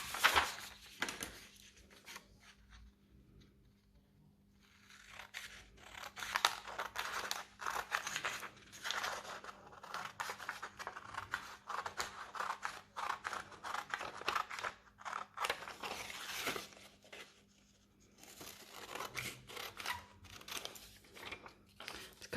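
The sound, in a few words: scissors cutting out a paper helicopter shape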